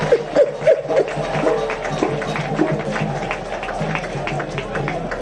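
A crowd at a public gathering claps in scattered, uneven bursts, with voices chattering and calling out underneath at a moderate, fairly distant level.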